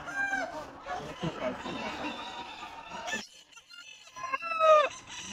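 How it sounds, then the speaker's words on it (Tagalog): Chickens at a pet market in Grotto: clucks and short crowing calls under a crowded din of voices, with a brief quiet gap before a louder, closer squawking burst near the end. "Tingnan ko yung manok."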